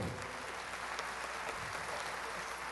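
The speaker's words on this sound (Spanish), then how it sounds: "Un aplauso, por favor." A concert audience applauds a band of percussion, trumpet, double bass, violin and guitar, a steady, dense wash of clapping heard faintly and from a distance throughout.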